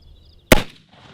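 A single sharp, loud report from a 45-70 Government rifle firing a +P load, an abrupt close blast that decays quickly into near silence.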